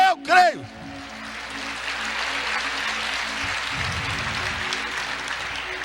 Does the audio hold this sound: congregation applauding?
yes